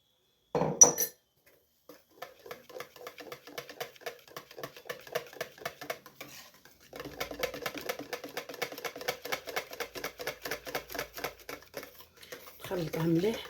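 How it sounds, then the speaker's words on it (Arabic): Madeleine batter with added cocoa being stirred in a bowl, a rapid run of light tapping and scraping strokes in two bursts, with brief talking at the start and end. "نخلطها مليح"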